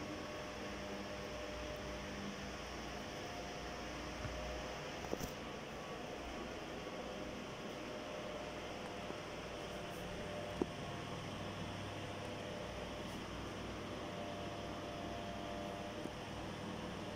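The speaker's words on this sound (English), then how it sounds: "So this third level noise you can hear" A 55 cm, 96 W, 220 V Swithun ceiling fan light running at its third speed gives off a steady, faint broadband whoosh of moving air, unbroken apart from a couple of tiny clicks.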